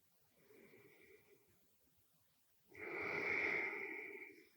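Breathing during evening vinyasa yoga practice comes as a soft inhale and then a louder, longer breathy exhale close to the mic, with a faint quiet gap between the two breaths.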